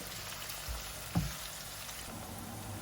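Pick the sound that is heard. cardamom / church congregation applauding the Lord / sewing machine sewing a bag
cardamom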